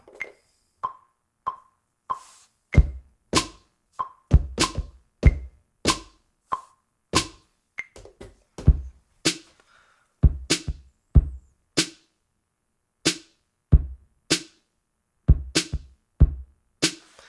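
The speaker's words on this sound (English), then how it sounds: "So you hear this metronome, and you'll hear when it starts up." Sharp clicks tick at a steady tempo, joined by punchy programmed drum hits, kicks and snares, in a sparse, close rhythmic pattern with no voices.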